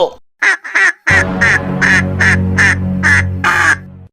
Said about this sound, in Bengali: আমি প্যাক প্যাক বলতে বলি নাই।